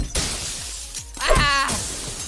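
Glass shatters in a cartoon battle-for-dream-island style animation, a loud crash with bright breaking fragments scattering over about two seconds, close and alone.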